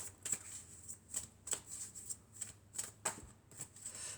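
Oracle cards being shuffled by hand during a tarot-style reading: a quiet series of soft, crisp riffling flicks in an irregular rhythm, close by and fairly faint, with no talking.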